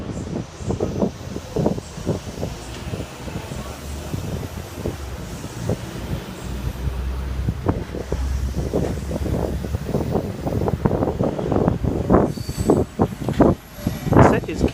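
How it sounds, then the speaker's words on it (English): A Sydney Trains K-set pulls away from platform 1 at Pendle Hill station on a Campbelltown-bound service. A low rumble builds and steadies, with scattered clanks and knocks and a constant wind noise throughout. "There's a Campbelltown bound K-set just about to depart platform number 1."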